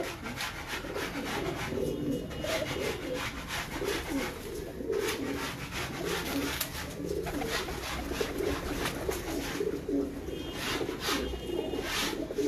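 Royal Teddy pigeons cooing in a dense, continuous chorus, with overlapping soft calls and occasional rustling or wing sounds, steady and fairly loud throughout with no talking.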